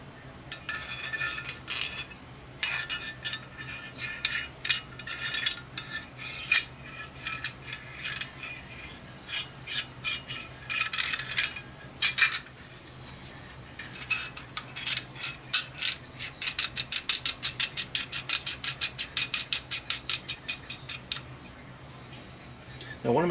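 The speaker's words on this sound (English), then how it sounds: "I'll put the barrel nut on, hand tight." A barrel nut being threaded by hand onto an AR-15 upper receiver, giving quiet close metallic clicks and ratchet-like ticks in irregular bursts, ending in a rapid run of clicks.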